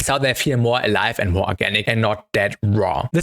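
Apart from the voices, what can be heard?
No everyday noises stand out.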